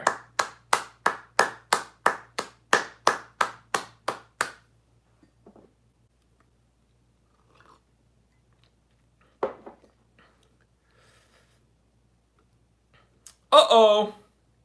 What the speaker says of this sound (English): Round of applause for the editor, by the way.